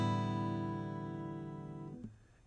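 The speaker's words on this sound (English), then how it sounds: "that's how it sounds with just all the strings being played open" One guitar strum across all six open strings in standard tuning, a single full chord that rings out alone and slowly decays over about two seconds before being damped.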